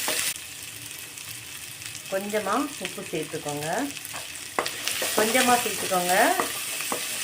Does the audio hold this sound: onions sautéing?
yes